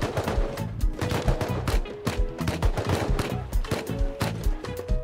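Dense automatic gunfire in the survival game Rust, rapid overlapping bursts and single shots firing almost continuously, loud and close with no voices heard.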